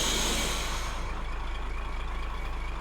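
The Pathfinder TIV 1 "The Talon", a storm chasing vehicle in Roblox, drops to the ground for intercept mode with a loud, airy pneumatic hiss that fades after about a second into a steady low mechanical hum.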